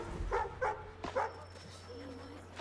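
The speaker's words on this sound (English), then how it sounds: "Hi, doggy." A dog in the video game Assassin's Creed III gives a few short, close barks and yips in quick succession, followed by a low steady background hum.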